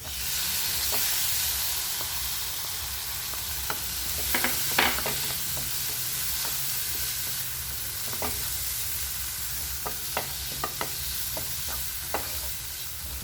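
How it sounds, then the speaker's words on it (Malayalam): Chopped tomatoes sauté with onion masala in a pan for crispy bread balls, giving a steady sizzling hiss with scattered scraping stir clicks, close and alone with no talk. "ഇനി ഇതിലേക്ക് നമുക്ക് നമ്മൾ അരിഞ്ഞു വെച്ചിരിക്കുന്ന തക്കാളി ചേർത്ത് കൊടുക്കാം"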